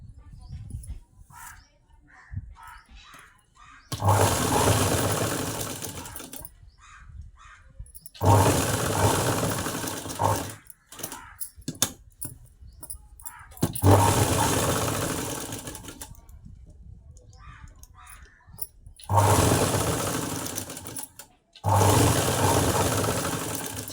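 A sewing machine stitches a lined blouse in four loud, steady whirring bursts of several seconds each, with a voice speaking in the pauses between runs.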